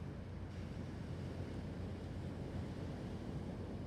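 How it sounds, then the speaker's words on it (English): Ocean waves wash steadily onto the shore as a soft, continuous surf with no breaks, heard alone without any voices during a quiet yoga relaxation pose. "The sound of the waves."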